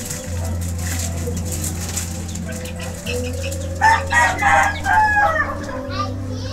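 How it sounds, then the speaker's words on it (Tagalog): Chickens, including four-month-old hens, clucking and calling in a busy poultry yard, with a rooster crowing, a steady low hum underneath and a brief burst of louder bird calls near the end. "Magagandang inahin to mga kamanok."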